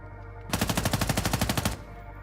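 A rapid automatic weapon fires in a video game, a single loud burst of about a dozen evenly spaced shots lasting just over a second, close and alone with no talk.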